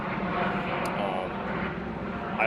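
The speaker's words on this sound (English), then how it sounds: "I got a plane flying overhead, killing the sound on this video" An airplane drones overhead as a steady, moderately loud broadband roar that holds through the whole stretch, with a few faint high ticks on top.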